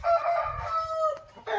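A Peruvian Black Knight line cross rooster crows once, close and clear, in a single drawn-out call on a breeding farm.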